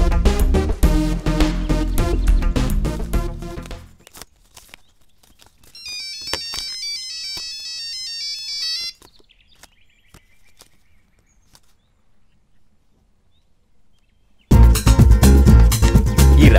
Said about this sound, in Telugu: ఈ రవిగడ్ ఫోన్ ఎత్తరేంటి?